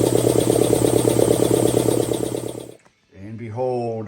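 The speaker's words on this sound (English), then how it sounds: "We need to get us into the air compressor business as we're getting ready to put this old grill together." An air compressor runs with a loud, steady droning hum in a workshop while an old grill is being assembled. It cuts off abruptly, and after a brief silence a person begins speaking.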